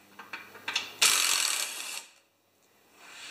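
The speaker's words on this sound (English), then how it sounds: "3/8 impact or socket set." A 3/8 ratchet socket clicks through a few quick turns, then makes one loud sustained whirring ratchet pass, while working on a Briggs engine on a Craftsman machine, before falling quiet.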